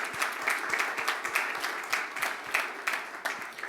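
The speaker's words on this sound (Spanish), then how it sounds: "dale el aplauso al Señor" A church congregation applauds during a worship service, a steady wash of many hands clapping at close range with rhythmic pulses, filling the room without talk.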